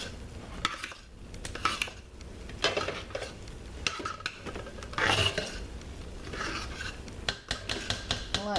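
A spoon scrapes and clinks around a pot while stirring a homemade soap mixture, giving irregular metallic scraping and tapping strokes at close range with no talk.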